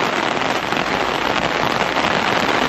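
Rain falling on parked cars for sale, an even, dense hiss of drops drumming on the car bodies, steady and fairly loud with no voices.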